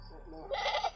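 Goat bleats near a Filipino farmyard gate, a short wavering cry in the second half of the clip with another voice or background sounds before it.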